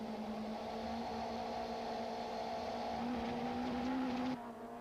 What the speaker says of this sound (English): The Opel Vectras of Mike Briggs and Grant McCleary are still controlling matters from the front